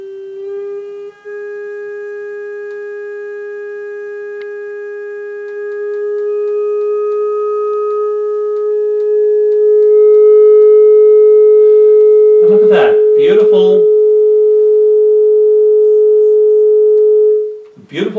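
Steady pure tones drive a Chladni plate scattered with sand, a loud sustained hum that steps up in pitch partway through, with a brief burst of talk near the end.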